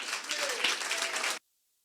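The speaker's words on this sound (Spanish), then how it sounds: "Reciba con un fuerte aplauso al pastor William." Applause from a Sunday church congregation welcoming the pastor, a dense burst of many hands clapping for over a second before stopping abruptly into silence.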